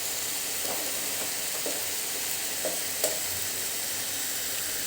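Onion-tomato masala sautés in oil with spices, a steady close sizzle with soft stirring scrapes and a small clink, no voices.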